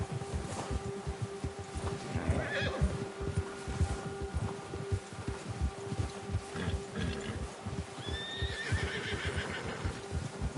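Horse neighs and whinnies with clip-clopping hooves in the video game Red Dead Redemption 2, a steady busy outdoor mix with a brief whinny near the end and insect buzz in the background.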